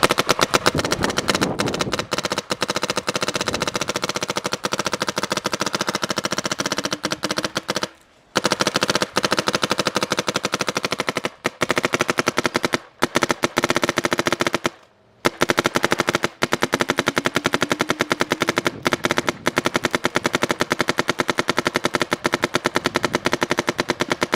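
Dangerous Power E1 paintball marker firing in long rapid bursts, a loud, dense rattle of shots with a few brief pauses between strings.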